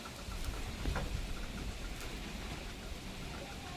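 Rain falls outside as a steady, soft wash of patter with a few slightly louder drops, fairly faint and distant, with no one talking.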